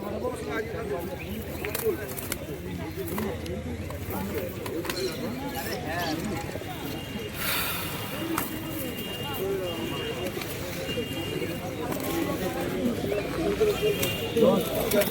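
Pigeons at a village market cooing softly and continuously under steady nearby chatter, with occasional wing flutters and background crowd noise.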